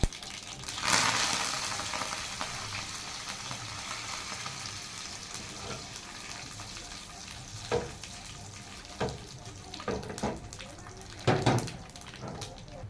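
Mustard and cumin seeds splutter in hot oil for idli sambar, a steady frying hiss with a few sharp crackling pops standing out near the end.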